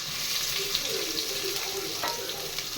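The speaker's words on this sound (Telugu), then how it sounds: "ఫస్ట్ ఆనియన్స్ వేయించుకుంటుంది, ఆయిల్ వేసి అక్కడ వేస్తుంది" Onions frying in oil for chicken biryani give off a steady hiss and sizzle, close and even throughout with a brief clink near the end.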